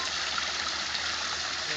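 A fountain runs during a pressure test, its water pouring in a continuous dense rushing roar, steady and close with no pauses.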